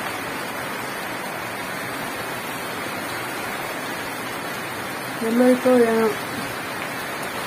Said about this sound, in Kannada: ಸ್ವಲ್ಪ ಜೋರಾಗಿ ಮಳೆ ಬರ್ತಾ ಇದೆ